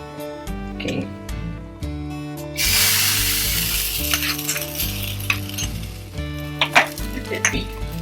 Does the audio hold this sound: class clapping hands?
no